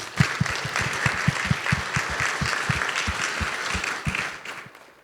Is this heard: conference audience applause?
yes